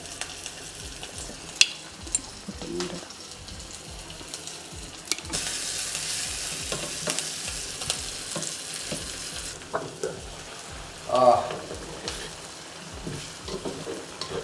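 Steady sizzling of shallots and curry leaves frying in hot coconut oil, with occasional stirring scrapes and clinks close by, no voices.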